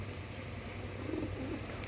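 Giribaz pigeons, a white-eyed pair, cooing faintly in soft low murmurs over a steady background hum.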